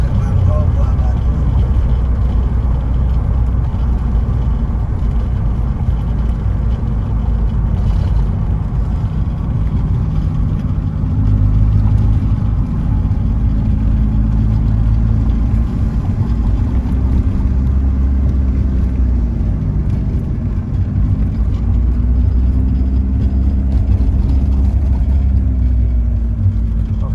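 A 1991 BMW E30 with an M40 engine drives along a toll road near the Buah Batu gate, giving a steady, loud low engine drone and road rumble throughout, with a voice talking over it at times.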